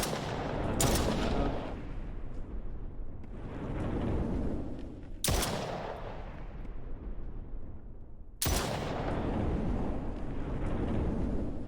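Explosive barrels blow up in a video game, three sharp, loud blasts roughly four seconds apart, each followed by a long roaring, crackling fire that fills the gaps between them.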